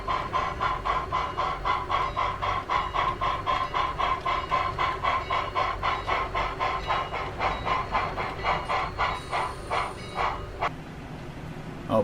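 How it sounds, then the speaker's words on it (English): A steam excursion train chugs past with regular, rapid puffs and rail rumble, the beat continuing steadily before cutting off, with a brief high whistle near the end. "Oh, it's the excursion train."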